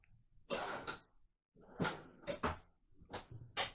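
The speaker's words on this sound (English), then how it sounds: "More drawers that pull out." Several drawers slide open and shut nearby in a 2021 Keystone Sprinter Limited 3590LFT RV, each a short rolling scrape ending in a soft thud, with brief pauses between.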